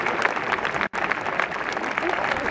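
A crowd applauds at a Yabusame samurai horseback archery event in Helsinki, broad steady clapping that fills the space with a brief break partway through.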